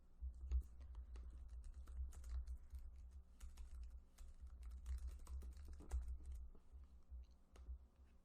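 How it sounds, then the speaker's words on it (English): A computer keyboard clatters with steady close typing and clicks during a calculus review live stream, quiet and continuous, with no voices. "I'm apologizing in advance for all the clicking that you're hearing."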